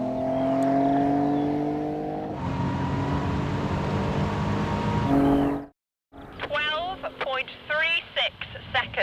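Car engine holding steady revs, then surging louder as it launches on a quarter-mile run, tone rising before cutting off; a voice counts down and people talk excitedly afterward.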